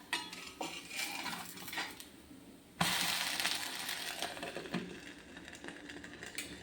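Metal utensils clank and scrape against a pan while kalathappam, a Kerala rice cake, is flipped, with a sharp clatter midway followed by softer cooking sounds and intermittent knocks, close and moderately loud.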